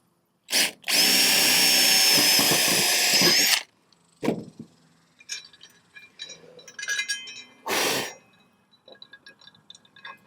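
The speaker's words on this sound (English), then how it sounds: "We may just have to drill some more on that one." A power drill boring a hole while mounting a Rhino USA wheel chock tie-down system for a Kawasaki Teryx 4: a loud, steady whine for about three seconds, then a short second burst and scattered metallic clinks and handling noises.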